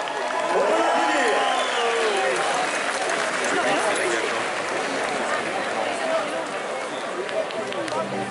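A racecourse crowd at Longchamp greets the mare Trêve in the parade ring with sustained applause and cheering, a dense, steady wash of clapping and crowd noise lasting throughout, with a voice speaking over it.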